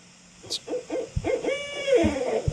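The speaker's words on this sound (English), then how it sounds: "Well, yeah, it's a classic hoot." An owl gives a series of clear, close hoots in a quiet night setting, with a faint distant background and no talking.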